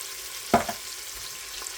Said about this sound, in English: I'm going to go ahead and stir in the garlic powder, cumin, smoked paprika